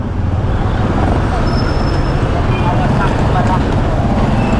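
Dense roadway traffic in Divisoria heard from a ride, with a steady loud rumble of engines, buses and cars close by and faint horn tones, while people talk over it.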